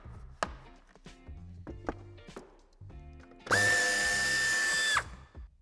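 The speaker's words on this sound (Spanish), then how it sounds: "Una vez hemos aflojado el tornillo de la parte superior" A power tool fastener driver works a bumper screw on a 2021 BMW 4 Series G23 convertible, with short clicks and tool handling, then one steady loud whir of about a second and a half, close up and without talk.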